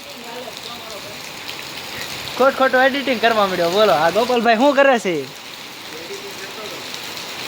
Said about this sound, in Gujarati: તો જોઈ શકો છો અહીંયા કેટલો બધો વરસાદ આવે છે